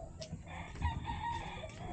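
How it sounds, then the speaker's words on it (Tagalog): Chicken crowing on a farm where turkeys and dragon fruit are kept, a single short, fairly near call with outdoor background noise around it. "Manok."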